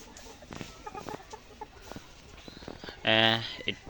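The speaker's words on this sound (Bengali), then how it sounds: "এই পুরো ব্যাচটা প্রায় এক হাজারের মতো মুরগি আছে" A large flock of about a thousand ready layer pullet chickens on a poultry farm: busy clucking and soft calls close by, with one loud squawk near the end, and a person speaking over the flock.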